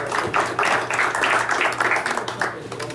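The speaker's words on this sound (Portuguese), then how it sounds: "Solicito uma salva de palmas para os aniversariantes" A Rotary Club meeting audience in Florianópolis applauds the birthday members, a sustained round of clapping from a room of people with some murmured voices underneath.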